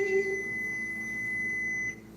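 A steady electronic microwave oven beep holds for about two seconds, then cuts off, with a faint low hum underneath.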